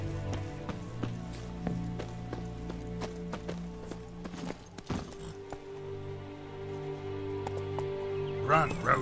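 Roach, the horse in The Witcher 3, gallops at a steady rhythmic clip-clop with hoofbeats fairly close but low in level, over game ambience and a faint musical drone.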